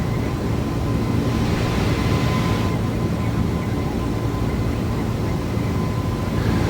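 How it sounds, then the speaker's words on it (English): A loud, steady roar of an Air Jamaica airliner's engines during takeoff and climb, a broad continuous rumble holding throughout with a slight shift partway through, and no voices. "I just want to let you see Air Jamaica take to the skies once more."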